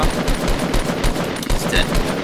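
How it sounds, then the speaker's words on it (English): Rapid gunfire from the Fortnite video game, a loud fast stream of repeated shots pulsing steadily across two seconds with a brief high-pitched ping near the end. "Keep shooting. Shoot his walls. Shoot his walls. I'm gonna run out of ammo."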